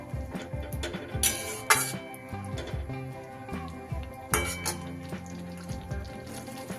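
Fried paneer is stirred into chili sauce in a pan, with spoon scraping and clinking against the metal and wet sizzling bursts, close and intermittent, without speech.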